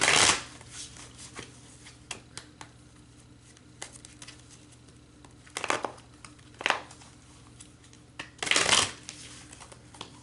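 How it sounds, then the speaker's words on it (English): A thick deck of cards shuffled close up, mostly a soft continuous rustle broken by a few louder riffling bursts near the start, the middle and the end. "So I'll go ahead and start shuffling here."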